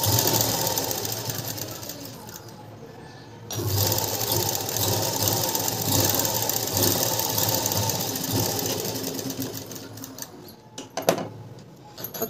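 A sewing machine stitches a blouse lining in long continuous runs of rapid, close mechanical chatter, pausing briefly near the start and again toward the end before a few short restarts.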